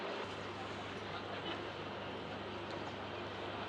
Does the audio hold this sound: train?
yes